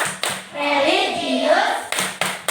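Classroom of children clapping the tepuk PPK rhythm at a teacher's cue, sharp broadband hand claps in short groups at the start and end, with children's chanting voices carrying through the middle.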